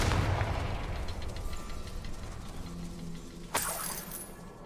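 A Confringo blasting spell in Hogwarts Legacy strikes once near the end, a sudden bright crack with a shattering burst, after a stretch of low, rumbling ambience.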